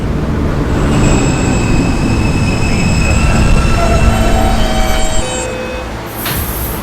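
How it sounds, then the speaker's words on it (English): A New York subway D train in a station, with loud rumbling wheels, squealing tonal whines and a faint metallic screech near the end, heard up close on the platform. "This is a West Baton bound D train."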